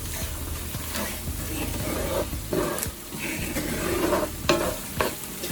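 Steak browns in a hot pan seasoned with black pepper for smothered steak with onion gravy, a close, continuous sizzle with soft scraping and stirring of the meat, no voices.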